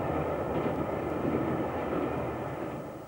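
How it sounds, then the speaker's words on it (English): Steady, loud rushing rumble of a Shinkansen bullet train in motion in Japan, a continuous broadband roar with no voices. "board the Shinkansen, the so-called bullet train, the fastest train in the world"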